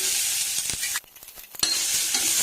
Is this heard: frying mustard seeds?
yes